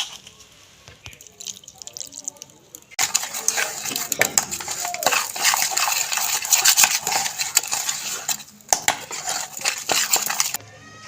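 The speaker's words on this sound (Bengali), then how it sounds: "এটা দিয়ে আমি ভালো করে ঘেটে নেব একটু জল দিয়ে দেবো" A spoon stirs coconut and semolina pitha batter with added water in a bowl, giving close, wet scraping and clinking that runs almost continuously after a quiet start.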